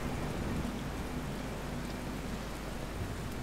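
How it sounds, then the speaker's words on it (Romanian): Rain ambience in the video game Kingdom plays as a soft, steady hiss of rainfall, constant and faint with no talk over it. "Vedeți, avem și ploaie ca efecte"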